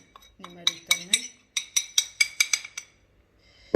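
A utensil stirs a turmeric mixture in a bowl, giving about a dozen sharp clinks and scrapes against the bowl in two quick bursts. A brief voice is heard early on.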